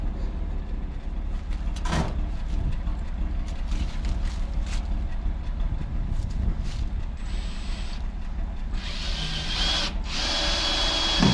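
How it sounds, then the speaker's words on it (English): A power drill drives screws into a wooden chicken coop in a woodshed, the motor whirring in repeated short bursts against steady outdoor background noise. "I'm going to walk around to the other side and put some screws in there before it pops out."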